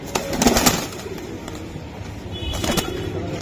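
Pakistani pigeons coo softly in a loft, with low repeated murmuring calls close by and scattered brief rustles and faint background noise.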